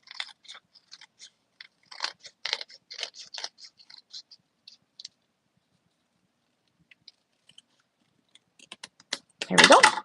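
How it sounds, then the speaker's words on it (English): Scissors snip around a paper butterfly card, a quick cluster of close, crisp cuts at the end after scattered faint paper handling and small taps. "And then I'll just cut around this."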